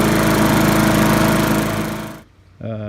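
A Yard Machines push mower with a Briggs Classic engine runs loud and steady with a buzzing drone, then cuts off abruptly near the end, and a brief tonal sound follows.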